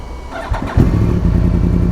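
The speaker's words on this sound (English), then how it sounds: "let's get that semi-warm start, baby" A cross-plane crank motorcycle engine cranks briefly on a semi-warm start, then catches and settles into a loud, steady idle close by.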